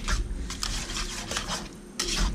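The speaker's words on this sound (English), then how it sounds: "now give it all a stir. This pan's hot." Beef stroganoff ingredients are stirred in a hot pan, with steady metallic scraping and clinks of a utensil against the pan over a low background rumble, close and continuous without speech.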